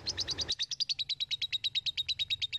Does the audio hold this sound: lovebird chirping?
yes